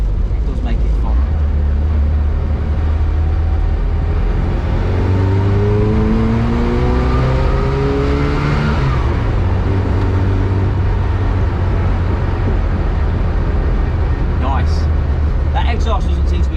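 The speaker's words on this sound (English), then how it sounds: "Exhaust doesn't seem to be banging as much either." Engine and exhaust of a 1972 classic minivan with little sound deadening, heard from inside while driving: a steady low drone that rises in pitch through a gear, with loose parts rattling and someone talking over it.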